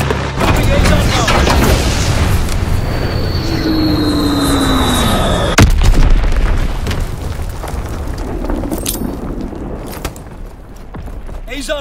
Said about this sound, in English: Azon bomb mission underway.